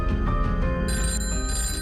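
A telephone rings in a promo for a live farmers' phone-in programme, steady electronic ringing tones with a shift in pitch midway, set against a music bed with no voices over it.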